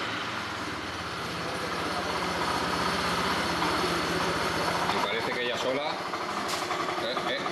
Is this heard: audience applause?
no